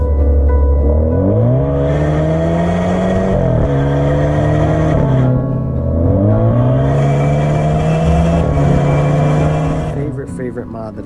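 An Alfa Romeo Giulia's engine revs and pulls hard through corners, its pitch climbing and dropping repeatedly as it accelerates, eases off and accelerates again, loud and close throughout.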